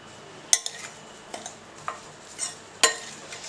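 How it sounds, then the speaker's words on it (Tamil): A spoon stirs cornflour into corn kernels in a bowl, scraping, with irregular light clinks of metal against the dish, close and fairly soft. "இதை ஃபஸ்ட்டு நம்ம மிக்ஸ் பண்ணி விட்டுடலாம்."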